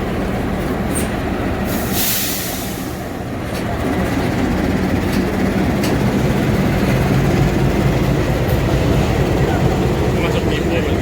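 The Ambarawa Express passenger train rumbles steadily along the rails out of Surabaya, a loud continuous roll with faint clacks and brief squeals, heard from on board with muffled voices.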